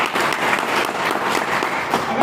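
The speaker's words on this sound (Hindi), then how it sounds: "तो एक बार जोरदार ताली" Audience at a network marketing business seminar breaks into loud, dense clapping, a continuous burst of applause filling the whole stretch without pause.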